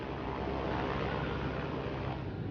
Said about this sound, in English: On board Bismarck, a gunnery officer, Lieutenant von Mühlenheim-Rechberg, hears the Swordfish approach.